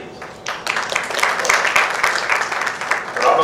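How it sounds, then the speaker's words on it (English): Audience applause at an HR conclave inauguration, clapping swelling in after a brief moment and building into loud, sustained applause from a large crowd. "A round of applause for all those wonderful people sitting upstairs."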